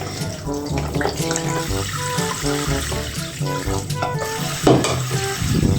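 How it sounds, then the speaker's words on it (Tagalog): Tilapia bought from a market being rinsed in a sink under a steady running tap, water splashing continuously and loudly against the fish and basin with some clatter of handling. "at hugasan ko na po itong tilapia na binili ko po sa palengke"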